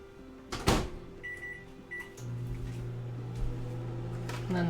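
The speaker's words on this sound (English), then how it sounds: "I'm just going to put this in the microwave to warm up some water." A microwave oven warming a cup of water hums steadily with a low electrical drone after a door clunk and a couple of short beeps, running close by and alone.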